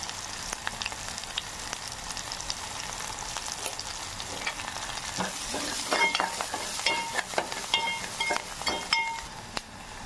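Garlic and turmeric fry in oil in a pan for a brinjal curry, giving a soft continuous sizzle that grows busier toward the end with spatula scrapes and small metallic clinks nearby.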